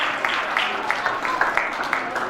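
Applause from an audience at a closing and honours ceremony of an education camp in Maujpur, Delhi, welcoming guests: a dense, steady patter of clapping with sharper individual claps popping out, sustained throughout.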